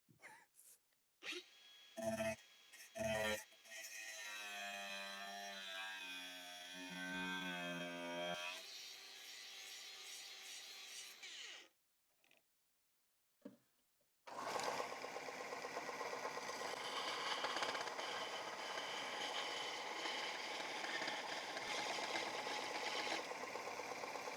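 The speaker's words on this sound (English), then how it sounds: "using my belt sander to grind in a bevel around the top edge" A belt sander grinding a bevel around the top edge of a forged steel hot chisel: short bursts, then a sustained whining grind that cuts out, and after a brief silence a long, steady, loud grinding run.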